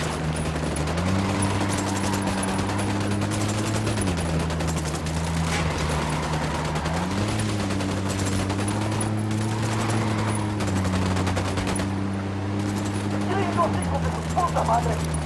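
Sustained gunfire in the Ghost Recon Wildlands video game, dense rattling shots running continuously beneath a steady droning engine hum, with voices talking over the fight.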